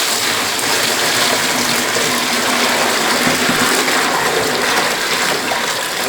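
Six gallons of 75 °C water gush steadily into a brewing pot for an ale clone, a loud, continuous pour with no talking.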